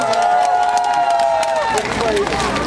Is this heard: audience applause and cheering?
yes